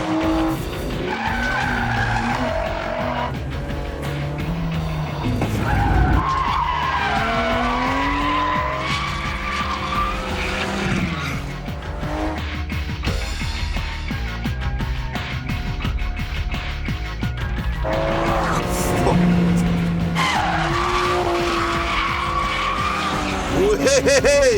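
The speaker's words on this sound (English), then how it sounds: "There was no doubt that the Aston made the better noise." A sports car, an Aston Martin or a Ferrari, howls loud and continuous as the engine rises and falls through the revs, with long tire squeals and skids layered over it.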